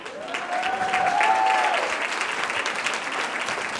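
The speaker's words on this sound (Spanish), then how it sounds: "Yo quiero que le den un muy fuerte aplauso a Geraldine Bazán." A crowd claps loudly and steadily for actress Geraldine Bazán at an evening runway charity event, the dense applause swelling slightly in the first seconds and then holding at full strength throughout.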